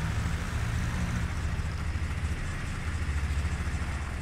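A Fendt 250 GT tractor idles in Farming Simulator 19, a steady, close engine drone that stays even throughout with no voices.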